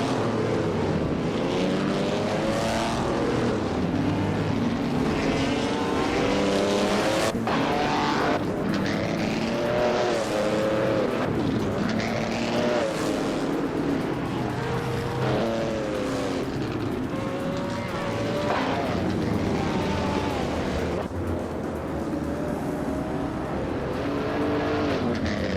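Engines of racing cars in a video game race, including a 1963 Agajanian Watson, drone and whine steadily and loudly throughout, with pitch sweeps as cars pass and shift.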